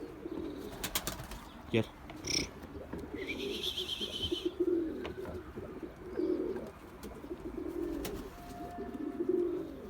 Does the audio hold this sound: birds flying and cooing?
yes